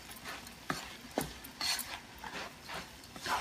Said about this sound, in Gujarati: હવે આપણે આ બધું એને ફાઇન રીતે હલાવી નાખશું